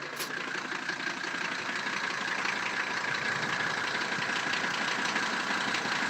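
A 1985 Mercedes 300GD G-Wagen diesel engine idling, heard faintly and steadily from inside the vehicle as a low, even rumble with no revving.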